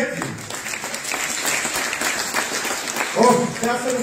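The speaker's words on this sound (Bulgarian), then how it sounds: "Аплодисменти!" Audience applause at a children's concert show of fairy-tale songs, steady clapping filling the hall for several seconds, with a voice speaking briefly near the end.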